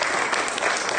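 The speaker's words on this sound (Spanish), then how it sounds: "Vamos a darle un aplauso al Señor." Church congregation applauding at the close of a Spanish-language worship service, a dense, steady wash of many hands clapping, loud and continuous throughout with no voices on top.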